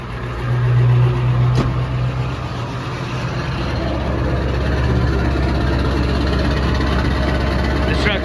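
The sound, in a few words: Ford 7.3 Powerstroke diesel truck engine starting and idling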